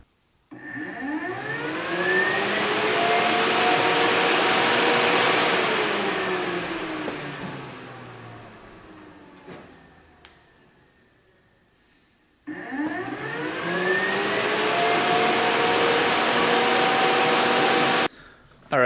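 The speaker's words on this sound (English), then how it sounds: "Fan is definitely turning on, you can hear it" Electric cooling fan on a 650cc shifter kart whirring up to a steady, loud hum with a rising and falling whine, cutting off, then starting again and running for several seconds before stopping abruptly.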